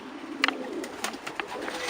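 Soft low cooing from a young white pigeon close by, with a few brief clicks and rustles over a quiet background.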